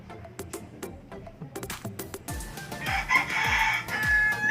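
A rooster crows midway through, a loud rising call close by, preceded by sharp clicks and taps and a low rumble of background sounds.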